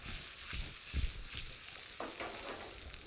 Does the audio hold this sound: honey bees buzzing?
no